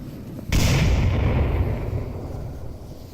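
A frag grenade goes off in the VR shooter Onward during a competitive match, one sudden loud booming blast with a long rumbling decay and no speech.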